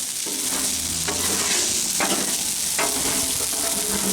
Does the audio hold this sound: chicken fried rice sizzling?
yes